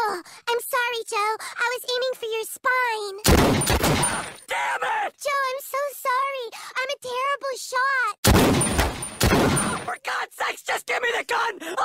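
Gunfire bursts out twice in a Family Guy cartoon scene, each a loud, dense volley of a second or so, set between stretches of animated character dialogue.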